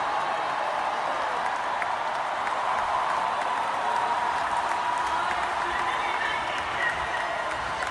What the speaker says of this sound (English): People were booing because they were mad.